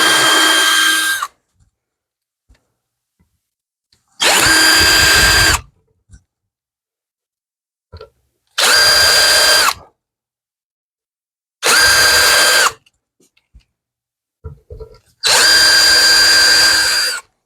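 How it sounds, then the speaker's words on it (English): A power drill bores a pilot hole into an RV motorhome roof ahead of a hole saw, running in five loud, steady bursts of a few seconds each with quiet pauses between them. "before I put my hole saw, I'm going to come drill the hole right in the center of the"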